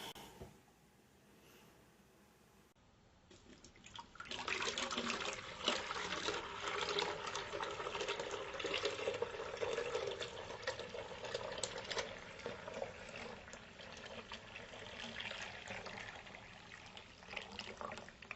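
Water poured from a container into an MRE drink pouch for a sugar-free drink mix: a quiet moment, then a steady splashing, gurgling pour that runs on continuously and close by.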